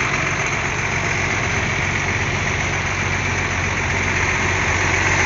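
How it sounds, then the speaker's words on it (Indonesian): A bus engine idles steadily and close by, a continuous low rumble with a mid-range drone and slight vibration, holding even throughout with no voices. "Nah ini mesinnya ya, ini belum cooler teman-teman,"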